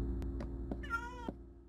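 Cat meows from the video game Minecraft, a few short mews followed by one longer drawn-out meow, clear and close, with no talk over them.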